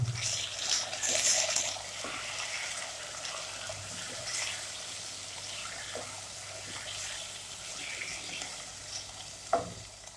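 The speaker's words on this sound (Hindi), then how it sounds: "अभी हम इसमें ऐड करेंगे चिकन बोनलेस हाफ के जी, और अच्छी तरह फ्राई कर लेंगे इसे" Half a kilo of boneless chicken fries with half-browned onions in a pan, giving a steady close sizzle with occasional stirring scrapes and a sharp clink near the end.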